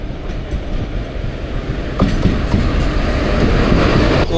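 The Mangaluru–Surat Express runs along the Konkan Railway in the monsoon, a loud close rolling rumble from inside or beside the train with rhythmic wheel clatter building in the second half.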